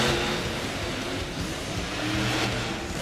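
Ness Energy Overdrive monster truck, in Sonic Sour paint, revving its engine during a freestyle run at a Tampa monster truck show, a loud sustained roar that swells slightly mid-clip, heard from a distance through arena ambience.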